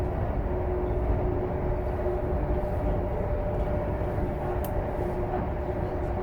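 ITX-Maeum train running along the Seohae Line on a weekday midday, with a steady interior rumble and a low constant hum throughout, no talk.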